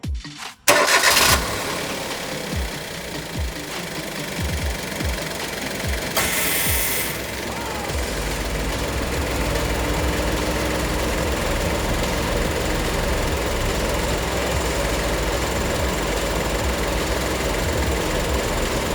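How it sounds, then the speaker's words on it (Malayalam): A car engine with the AC switched on cranks with rapid chugging pulses, catches, and settles into a steady, continuous idling hum that carries on to the end. "വേറൊരാളെ കൊണ്ട് ഞാൻ വാഹനം സ്റ്റാർട്ട് ചെയ്യിക്കാൻ പോവുകയാണ്"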